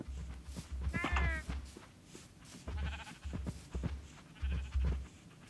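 A Minecraft sheep bleats several times in short wavering calls over a low steady rumble, close and moderately loud.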